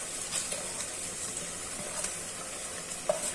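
Washed masoor lentils cooking with bottle gourd in a pan, a faint continuous sizzle with occasional light stirring scrapes and a small clink, fairly quiet and close.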